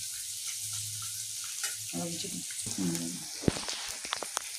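Peanuts frying gently in a pan over a low flame for little millet upma give a soft, steady sizzle, with faint crackles and a few sharper pops toward the end; a quiet voice briefly speaks underneath.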